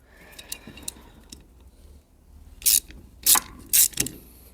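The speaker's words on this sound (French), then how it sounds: "Donc, petit cliquet de 10." A 10 mm ratchet wrench clicks on a Derbi Euro 3 engine during a top-end rebuild. Faint ticks and handling noises come first, then three loud, close ratcheting bursts near the end.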